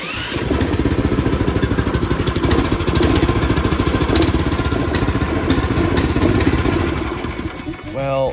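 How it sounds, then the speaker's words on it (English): A Tillotson 212 engine in a Trailmaster Hurricane 200 Pro go-kart, torque converter unhooked, chugs steadily at close range after an electric start, holding a fast, even firing rhythm for several seconds before winding down. "So let's try to start this thing real quick."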